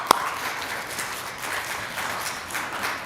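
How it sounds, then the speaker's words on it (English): A crowd at a disability rights celebration in Billings applauds, a moderate wash of clapping opened by one sharp close clap, with faint voices underneath. "So let's do this, everybody. Clap."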